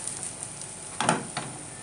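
Brinjal fry sizzles softly in a pan, and a couple of short scraping stirs rise over the hiss midway through.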